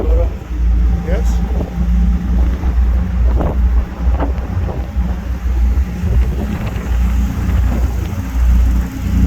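An NYC ferry travels across the water in cold, breezy weather. A steady low engine rumble mixes with wind buffeting the microphone, and people talk over it throughout.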